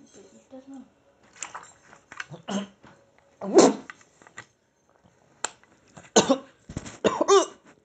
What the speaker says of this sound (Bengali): আরে কাশি হচ্ছে